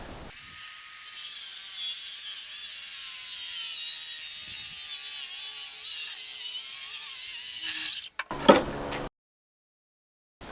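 A board being ripped freehand into two halves with a handsaw, steady continuous rasping strokes running close and alone for about eight seconds, then a brief louder burst of cutting before the sound stops.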